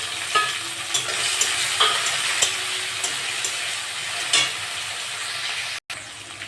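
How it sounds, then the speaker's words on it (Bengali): Shrimp stirred and frying with onions in a pan, a steady close sizzle broken by scraping stirs at an uneven rhythm, with one brief dropout near the end. "আমি এবার চিংড়ি মাছগুলো দিয়ে দেবো।"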